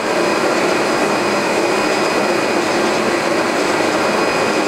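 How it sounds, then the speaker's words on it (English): A JWEI digital cutter with a creasing wheel and cutting tool moves fast across E flute board, producing a loud, constant whining roar with a steady high tone and no pauses. "It's using creasing wheel and four cut tool. It's moving very fast."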